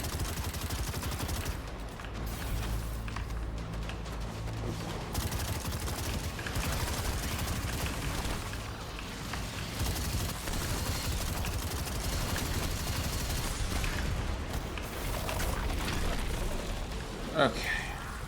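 Turret gunfire in the video game Destiny 2, sustained bursts of rapid shots and booms filling the whole stretch, dense and loud with talk mixed in over the shooting.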